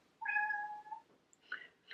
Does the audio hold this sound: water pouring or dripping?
no